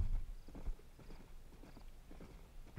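Horse hooves clip-clop in a steady walking rhythm in the Western video game Red Dead Redemption, fairly close and moderately loud, with no talking.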